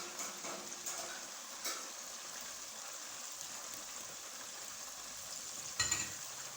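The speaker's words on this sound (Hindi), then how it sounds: "इस तरह से चम्मच आपने तेज़ तेज़ हिलाना है ताकि इसका कलर अच्छी तरह से आ जाए।" Onions sizzle steadily in hot oil in a pot while a spoon stirs them quickly, giving a soft, constant crackling hiss with a few faint scraping taps and one louder clatter near the end.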